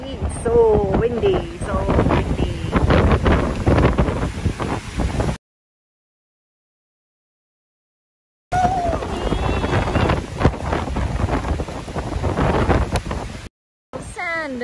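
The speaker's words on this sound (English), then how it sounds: "See, it's so windy." Strong wind gusting along a Tokyo street in the morning, a rough broadband buffeting on the microphone that comes and goes with short silent gaps, mixed with a person talking over it.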